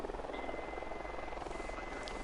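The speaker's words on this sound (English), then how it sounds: "The drone is up." A drone hovers in the Ghost Recon video game, a steady, close whirring buzz with a constant low rotor drone that holds without change and without talk.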